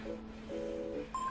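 Electronic keypad tones from a mobile phone being used for late-night texting: a few steady short beeps in sequence, the last one a higher pitch, heard close and clear with no talking.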